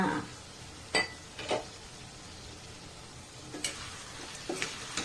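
Duck meat cooks in a pan, Assamese style, before ash gourd is added. A soft, steady sizzle runs underneath a few close, sharp clinks of utensils against the pan.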